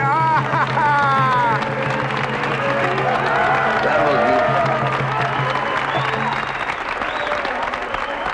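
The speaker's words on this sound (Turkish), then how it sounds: "Alkışlar" Applause and crowd noise fill a scene from a Turkish film about a Romani musician's wedding, steady and fairly loud over a bed of music and overlapping voices, holding throughout before easing slightly near the end.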